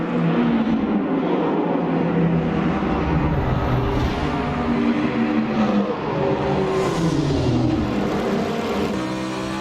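A Porsche 917 race car engine revs in a racing video game, a loud continuous drone whose pitch rises and falls through gear changes, with no gaps throughout.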